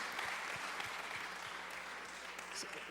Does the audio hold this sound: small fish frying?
no